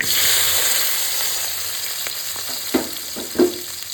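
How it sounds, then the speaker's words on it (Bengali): Two chopped onions frying in leftover oil from frying fresh Ganges river fish, a strong steady sizzle up close with a couple of brief knocks and crackles as they are stirred. "ওই মাছ ভাজার তেলেই আমি দুটো কুচানো পেঁয়াজ দিয়ে দেবো"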